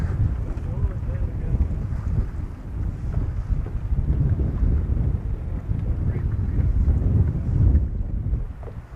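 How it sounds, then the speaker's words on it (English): Strong wind blows steadily across a fishing boat out on the water in February, a continuous loud, low rumble buffeting the microphone with no break. "That wind, I mean, that wind's what gets you."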